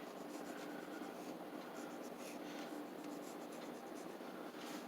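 A pencil draws across watercolor paper in a close, continuous scratchy rub that keeps up without pause, soft and steady with small strokes, and no one speaking.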